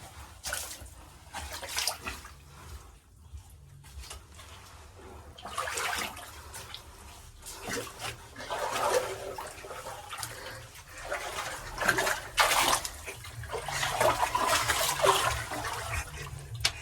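Water inside a small cave on Kem hill rushes and splashes in a continuous, fairly loud wash that swells in stronger surges, with no voices present.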